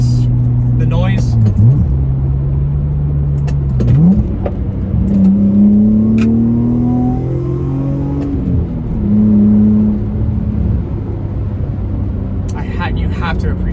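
The 2.5 liter V6 of a 1997 Mazda MX-6 revs loudly up close, its pitch climbing and falling through several throttle blips before settling to idle.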